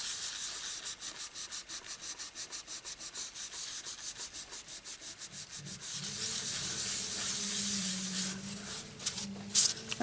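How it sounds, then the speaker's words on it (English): A tissue rubs in quick circles on a stamped paper card, a rhythmic dry scratching that repeats steadily at first, then smooths into a softer continuous rub, close and quiet. "if you get your tissue and just rub it in circles"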